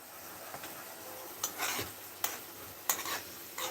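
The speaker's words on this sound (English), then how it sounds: "So what we're doing now is just cooking up the seasoning to accommodate the fish." Seasoning sizzles in a pot on a coal stove ahead of cooking fish: a steady, moderate frying hiss with a few sharp stirring scrapes and clinks, and no talking.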